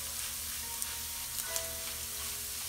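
A pan of oil with turmeric fries quietly before zucchini goes in for a Bangladeshi zucchini bhaji, a soft continuous sizzle with occasional faint ticks, fairly quiet and steady without voices.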